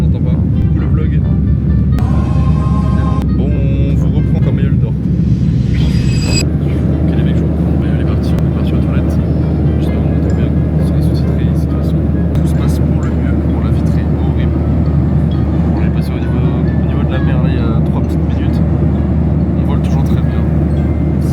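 A loud, steady roar of airplane engines fills the cabin during a flight, a constant low drone with brief clicks and rustles over it.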